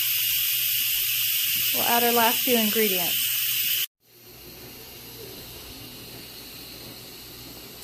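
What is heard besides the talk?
steam releasing from an Instant Pot pressure cooker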